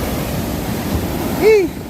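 Big sea waves wash up around the post of a beach hut on the shore, a continuous rushing surge of surf that swells near the end, with a brief voice-like tone rising over it.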